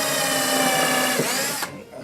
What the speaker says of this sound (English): I'm drilling a 1/8 hole for the screws later on.